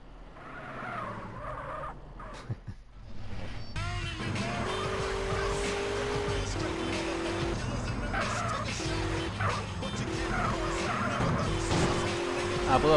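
Car in GTA San Andreas video game driving with engine revving through gear shifts and tires skidding, loud and continuous after a quieter start, with someone speaking briefly over it.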